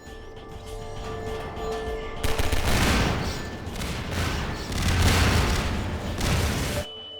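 Gunfire and explosions in Half-Life 2 as exploding barrels are shot: a quiet lead-in, then a loud sudden blast followed by rolling bursts and booms that continue for several seconds before cutting off abruptly.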